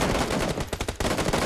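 Rapid automatic gunfire from the mobile game BGMI after its anniversary update, a dense, loud, continuous burst of shots with a quick rattling rhythm.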